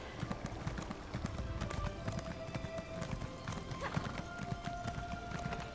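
Horse hooves in the Elder Scrolls Online game, a rapid continuous clip-clop of a galloping mount, close and steady throughout, with occasional whinny-like tones and faint game ambience.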